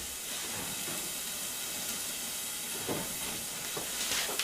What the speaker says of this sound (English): Hamburger cooking.